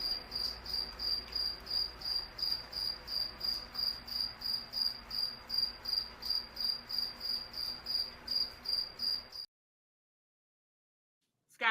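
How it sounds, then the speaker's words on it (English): Crickets chirp steadily in a dense, rhythmic pulse, each beat a bright shrill trill. They keep going for about nine seconds and then cut off into silence. "I can't even hear what you saying because all I hear is crickets in the background."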